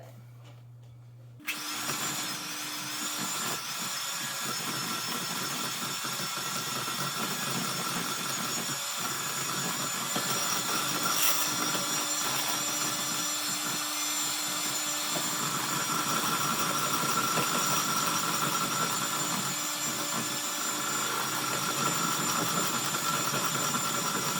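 Electric mixer blending cream cheese pie filling: after a quiet start, the motor kicks on and runs as a loud, steady whirring drone for the rest of the clip, with no talking.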